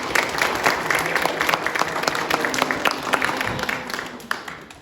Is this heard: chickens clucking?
no